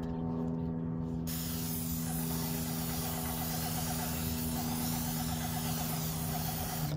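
Ready Seal stain sprayed onto a cedar fence outdoors in fickle, swirling wind, giving a steady, loud, continuous hiss that holds unbroken for several seconds with no voices.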